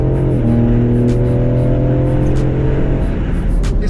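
A Ford Explorer ST with a twin-turbo V6 accelerates hard, heard as a loud, steady engine drone from inside the vehicle with rising tonal whine over about four seconds and faint clicks on top.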